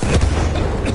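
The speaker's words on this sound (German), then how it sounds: "Vorsicht, Jungs, ich werfe eine Granate!" A grenade explosion in Battlefield 1: a loud, booming low-frequency blast filling a short moment, with a dense rumble and a faint crackle on top.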